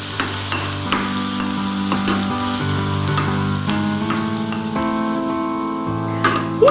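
Onions fry in a pan with a steady, close sizzle, punctuated by occasional soft scrapes and taps as they are moved around; no talking.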